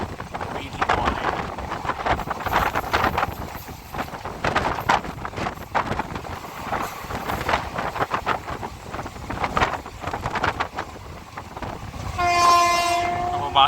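A passenger train running on the Trivandrum–Nagercoil route, recorded from on board, rattles and clatters steadily with wind buffeting the microphone, ending with a loud sustained horn blast.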